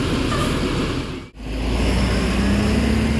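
A Gunung Harta 1626 bus roars past on the road with a loud, broad engine and tyre rumble. The sound briefly drops out midway, then swells again as the bus continues by.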